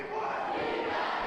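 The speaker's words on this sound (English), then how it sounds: "Zenna's crowd starting to get a little hype" A gym crowd at a boys high school basketball provincial game roars and cheers together, a loud, sustained wash of voices with no clear single speaker.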